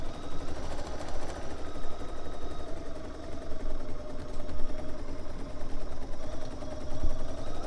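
A 97D sewing machine stitches a Celtic quilt with a steady, fairly quiet mechanical hum and whir that runs continuously without pause.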